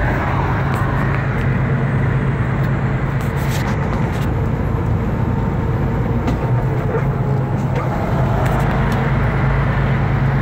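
Steady, loud road roar from traffic on a Colorado interstate along the Rocky Mountains, heard from inside a moving vehicle, with continuous tyre and engine rumble and no pauses.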